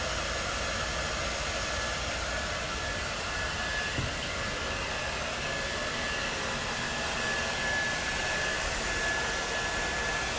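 A hair dryer blows steadily while a layered bob is styled, a loud continuous whooshing roar that barely changes across the whole stretch.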